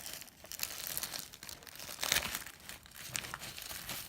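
Foil material of a Therm-a-Rest NeoAir X-Therm sleeping pad is folded back, giving soft, close, irregular crinkling and rustling bursts for a few seconds, with no voices.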